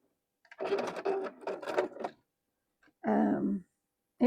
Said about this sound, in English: this is just sewing this basically right down the center